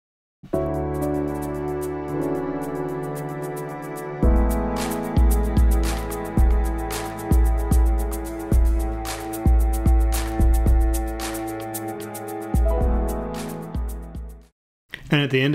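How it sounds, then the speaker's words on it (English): A remix plays loud and full: sustained piano and string harmonies under a steady pattern of punchy drum hits, ending in a brief gap and a fresh swell; no speech. "So then if I put that all together with the drums, it sounds like this."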